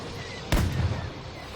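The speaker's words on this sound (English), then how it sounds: "Wildfire missile." A Wildfire missile launches in the space game X3 Albion Prelude, a single sudden whooshing burst that rumbles briefly and then fades into low engine hum.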